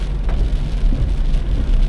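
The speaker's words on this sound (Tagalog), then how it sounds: "Dito talaga malakas na yung ulan, tas may fog pa" Heavy typhoon rain (Typhoon Crising) drums steadily on a 2024 Toyota Wigo, a dense, continuous roar of droplets that stays loud and even throughout, with no voices.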